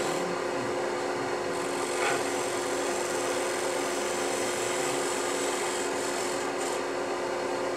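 A hand tool scrapes steadily across wood during the carving of a cigar ashtray, giving a continuous close rasping rub with no pauses and no voices.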